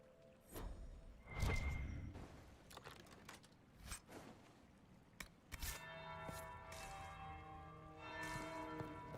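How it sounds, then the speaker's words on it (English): In the fantasy video game Dragon Age: Inquisition, a bell rings out over a faint, shifting game soundscape with soft thuds and whooshes, its tone lingering in the latter half. "That's the bell."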